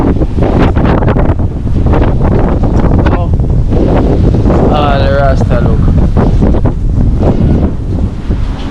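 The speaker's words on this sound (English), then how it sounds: "It's windy." Strong wind buffets the microphone outdoors in a small town, a loud, steady roar with gusty rumble that lasts throughout, with faint voices underneath.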